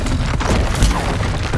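A Bombarda spell explosion in the video game Hogwarts Legacy bursts loud and close, a heavy boom with crackling debris amid ongoing combat noise.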